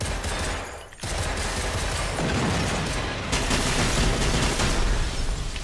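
Rockets fire in the shooter game Generation Zero as a dense, continuous barrage of loud blasts and crackling detonations that roars on without a break.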